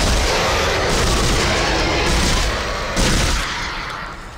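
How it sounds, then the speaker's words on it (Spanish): Rapid gunfire in the PS3 video game Dead Space, a dense, loud burst of repeated shots and booms that fades off toward the end, with no talking. "Vamos, te voy a desinflar a balazos."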